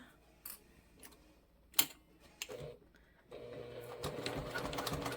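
Sewing machine back stitching a bag seam: a few short, separate mechanical ticks and bursts, then a steadier run of stitching near the end, close by and without talk.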